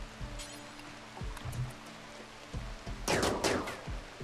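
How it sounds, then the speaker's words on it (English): Gunfire in RimWorld, scattered sharp shots early followed by a rapid burst of several cracks, set against a steady rain-like background. "Take a shot there."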